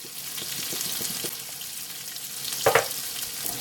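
Sausages and onions with black pepper being stirred in a frying pan, a low steady sizzle under soft scraping and clinks, with one brief louder clatter near the end.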